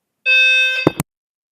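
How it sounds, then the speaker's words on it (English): A fire alarm sounds indoors, a loud, piercing, steady tonal blare lasting under a second and ending in two short clicking bursts, with no one talking. "I don't know if you guys can hear that fire alarm"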